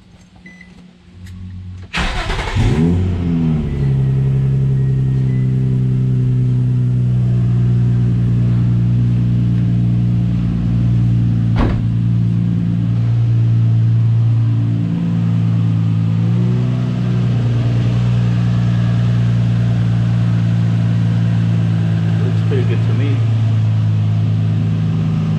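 A Nissan 350Z's VQ35DE V6 idles steadily while warming up after starting, a loud, close, continuous engine hum with slight fluctuations and a brief click midway.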